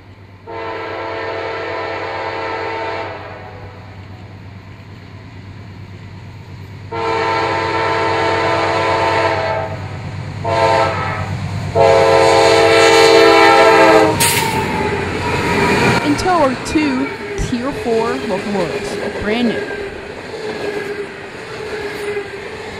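A CSX freight train led by GE wide-cab engines rolls past loudly in Girard, Pennsylvania, its horn sounding in long blasts, then the rumble and squealing clatter of cars continues.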